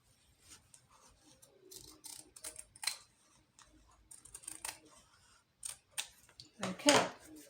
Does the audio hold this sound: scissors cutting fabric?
yes